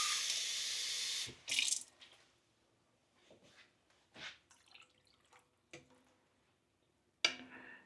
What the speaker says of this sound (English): I think I will add a little bit of water, like a half a cup.